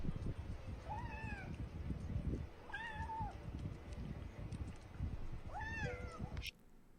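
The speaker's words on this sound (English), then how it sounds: "That cat." A cat meows three times at an even spacing over a busy background of low noise, each call a clear rising-and-falling tone, the last one cut off abruptly.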